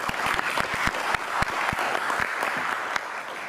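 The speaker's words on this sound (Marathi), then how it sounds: "जोरात टाळ्या" An audience applauds a speaker at a youth motivation event, dense steady clapping with sharp individual claps standing out close by, continuous throughout.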